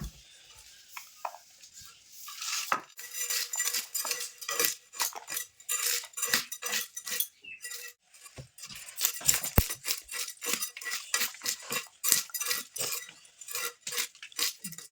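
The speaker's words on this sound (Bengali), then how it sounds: "দেখো এখন মাছগুলো পিস পিস করে আমি কেটে নেব" A knife chops small fish into pieces on a cutting surface, with irregular bursts of sharp, fairly faint cutting and tapping knocks and short quiet gaps between them.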